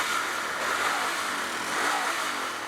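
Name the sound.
Royal Enfield Continental GT 650 motorcycle engine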